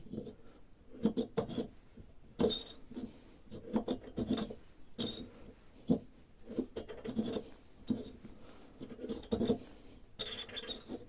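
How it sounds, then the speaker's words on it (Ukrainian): Strip of 180-grit sandpaper rubbed around the shaft of an LG washing machine drum, giving repeated rasping, scratchy strokes in an uneven back-and-forth rhythm, close and moderately loud with no talking. "Ми вже почали вал притирати. Вирізали наждачку такою полоскою."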